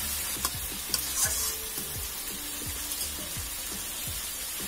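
Ginger-garlic paste and cumin paste fry in a pan, a soft continuous sizzle broken by repeated scraping stirs at a steady rhythm, close but fairly quiet, with no voices.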